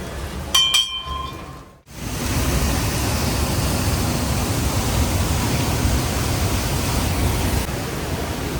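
A waterfall by the Kondeshwar Mahadev temple roars as a steady, dense rush of water. It follows a few brief bright chiming tones and a short dip, then runs on unbroken with no voices.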